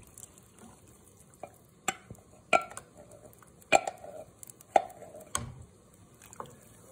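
Tomato sauce is stirred into a pot of chicken and sausage gumbo, with a spoon knocking and scraping against the pot in several irregular clinks and wet swishes, close and fairly quiet.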